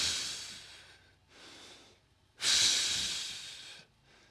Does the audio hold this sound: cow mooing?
no